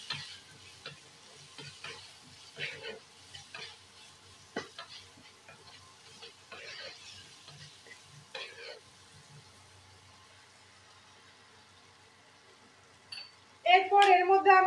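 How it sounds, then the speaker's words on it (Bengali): Pointed gourd and prawns with salt stirred in a pan, a series of scraping and stirring strokes over a soft sizzle, with a loud burst of frying near the end. "ভালোভাবে এটাকে মিশিয়ে নেব।"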